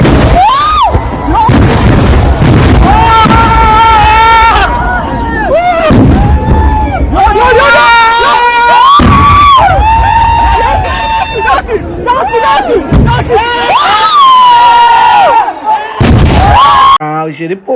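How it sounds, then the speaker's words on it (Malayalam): Vedikkettu fireworks at the Kavassery Pooram temple festival in 2026 burst as several heavy booms, partly buried under loud, prominent voices close to the recorder. "ഇപ്പോ ഇനി വെടിക്കെട്ട് കാണാം."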